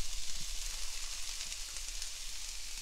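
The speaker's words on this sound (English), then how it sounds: "we're gonna make 1 small red onion. We're gonna leave it there until it sweats" A small red onion sweats in a pan, producing a steady, even hiss of quiet sizzling close by with no other sounds.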